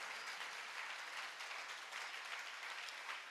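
Audience applause at a Jain religious gathering for a grand ceremonial entry, a steady wash of clapping from a crowd filling the whole moment, fairly faint and distant with no talk over it.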